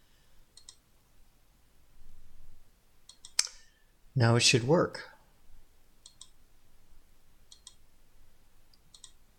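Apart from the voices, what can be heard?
mouse clicking on canvas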